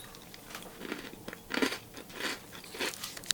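Biting into a hard freeze-dried ice cream sandwich, several sharp crunches and crackly chewing bursts up close, fairly quiet with no talk.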